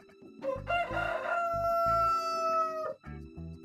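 A rooster gives a full, loud cock-a-doodle-doo close by, with a long drawn-out final note, framed by short rhythmic rumbling pulses before and after.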